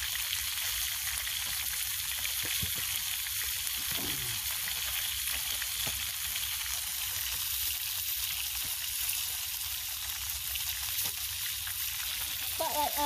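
Potatoes cook over a campfire with a steady, close sizzling and crackling that runs unbroken throughout, with a faint voice briefly audible beneath it.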